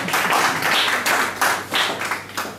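Audience at a stage hypnosis show clapping in short, uneven bursts, several distinct waves of hand claps rising and falling close by, scattered rather than sustained, with no talk.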